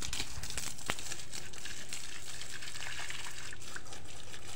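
Water gushes steadily from a hose or tap while plants are watered outdoors, a continuous hissing spray with a few splashes and crinkles, fairly close and unbroken.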